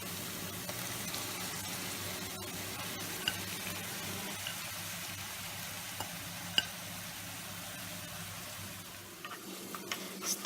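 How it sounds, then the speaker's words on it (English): Rice being stirred into pumpkin sauce in a hot pan, giving a continuous low sizzle with soft scraping and occasional light taps of the utensil, steady and moderately quiet without voices. "Stir the rice until all the rice are covered with the pumpkin sauce"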